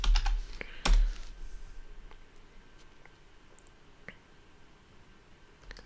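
Typing on a computer keyboard during an image search, a quick cluster of loud clacks at the start followed by sparse, faint individual key taps, close with no talking.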